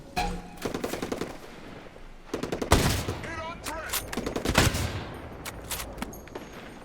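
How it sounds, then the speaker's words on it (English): Rapid automatic gunfire from Ghost Recon Breakpoint, bursts of sharp shots echoing through a valley, loud and close with a rolling reverberant tail between volleys. "You hear the sound of that gun ripple through this valley."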